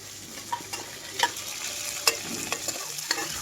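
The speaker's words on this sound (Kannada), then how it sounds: "ಸಣ್ಣ ಕಟ್ ಮಾಡಿದ ಈರುಳ್ಳಿ ಮತ್ತು ಹಸಿಮೆಣಸಿನ್ಕಾಯಿ, ಕರಿಬೇವು ಸೊಪ್ಪು ಹಾಕ್ಕೊಂಡು ಫ್ರೈ ಮಾಡ್ಕೊತಾ ಇದ್ದೀನಿ" Chopped onion, green chili and curry leaves frying in a pan, a soft steady sizzle broken by several sharp scraping and stirring taps of a spatula, close and fairly quiet with no voices.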